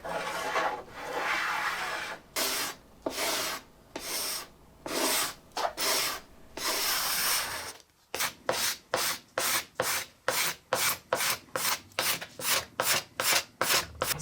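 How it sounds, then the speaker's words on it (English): A block plane and card scraper work across wood inlay banding on a tabletop, bringing it flush: long, steady rasping planing strokes give way to a quick run of short, rhythmic scraping passes, close and loud with no talk. "come over with a block plane and bring that extra inlay banding down to the surface, or fairly close to it"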